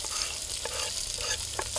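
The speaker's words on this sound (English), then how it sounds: "First, saute the onions and garlic." Onions and garlic sizzle in olive oil in a pan, a close, steady frying hiss broken by a few soft stirring scrapes.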